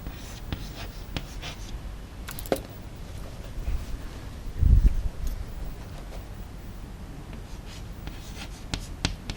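A pen scratches across paper during a class II English lesson: steady, close, faint strokes with brief pauses and one louder scrape midway, no talk over it.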